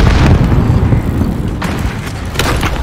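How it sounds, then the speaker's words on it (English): A grenade goes off in Modern Warfare PC multiplayer, a loud, close, rumbling boom with further blast bursts and debris rolling through the short stretch. "Grenade out!"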